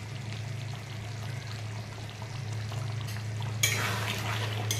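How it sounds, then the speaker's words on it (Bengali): Ghee goes into a pan of shahi paneer, a soft pour and stir over a steady low hum, ending in a brighter sizzle burst as the fat hits the hot pan. "দিয়ে দিলাম ঘি"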